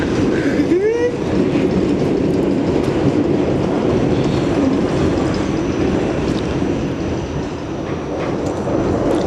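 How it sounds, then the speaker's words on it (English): New York subway train moving along the tracks, a loud continuous rumble with rattling and faint squeals, close and enclosed, steady throughout with no break. "The next stop on the train will be Avenue I."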